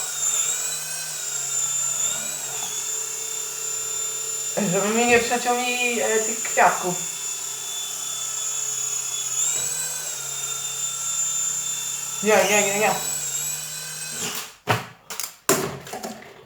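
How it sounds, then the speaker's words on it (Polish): A small toy drone buzzes with a high, steady whine as it hovers outdoors, its pitch swelling and wavering as it climbs and dips. Someone talks over it, and sharp knocks near the end suggest the drone hitting something. "I właśnie teraz będę próbował jak najdłużej utrzymać tego drona w powietrzu, bez przeszkód"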